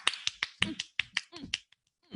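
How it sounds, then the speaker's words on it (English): A single person snaps their fingers in a soul clap, about nine crisp, close snaps in an uneven rhythm, with brief vocal sounds between some of them. "I may do a soul clap."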